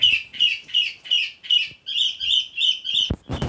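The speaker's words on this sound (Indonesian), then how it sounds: "Ini burung ya, suara burung di pagi hari ini ya" Close, bright morning bird chirps repeat in quick rhythmic bursts, one song phrase after another, ending with a few soft knocks.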